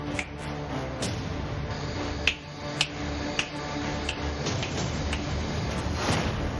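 A few sharp finger snaps ring out at irregular intervals over a low background hum, fairly faint and spaced about a second apart.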